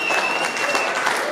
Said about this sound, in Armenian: ես ուզում եմ, որ մի հատ առաջին էլ ծափարենք խոհանոցում տանջվող աման լվացողներին